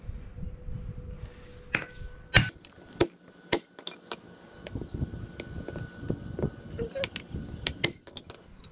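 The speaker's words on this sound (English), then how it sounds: "Hammering this guy in." Sharp metallic hammer strikes drive a U-joint clip onto a rear drive shaft, irregular taps and clinks of varying force spread over several seconds in a quiet workshop, some blows ringing briefly.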